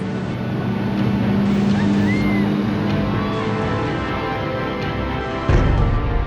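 A motorboat engine roars steadily nearby with water wash, then surges louder near the end as the boat speeds off.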